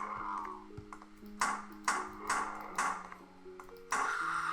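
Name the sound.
skeleton enemy hit and hurt sound in Unity video game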